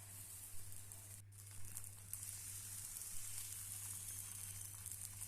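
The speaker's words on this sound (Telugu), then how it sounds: "తర్వాత పెనంపై దోశ వేసుకోవాలి." Dosa batter cooks on a hot griddle with a faint, steady sizzle and soft crackles over a low constant hum.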